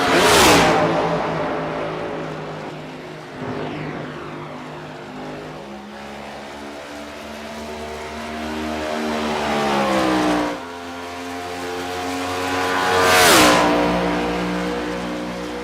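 NASCAR Next Gen race cars lapping Homestead-Miami Speedway in iRacing, engines roaring loud and steady with rising and falling revs and shifts, cars sweeping past close at the start and end.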